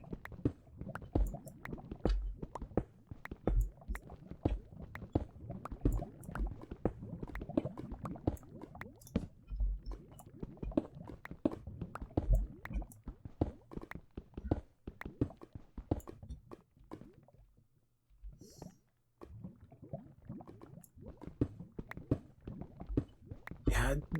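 Irregular thick bubbling and popping of lava in Minecraft, continuing with soft gurgles and a brief quieter gap near the end.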